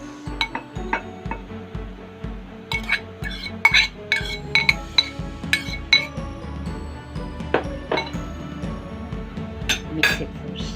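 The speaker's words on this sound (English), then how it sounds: "You're going to mix in the carrots and the walnuts." Carrots and walnuts being stirred into carrot cake batter in a bowl, with repeated clinks and scrapes of a utensil against the dish in an uneven rhythm, close and distinct.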